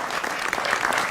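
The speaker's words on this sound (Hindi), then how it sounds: "जोरदार तालियों से स्वागत करिए रैपिड फायर राउंड का" Dense, continuous clapping from a studio audience at a televised political debate, loud and close for about a second with no talk over it.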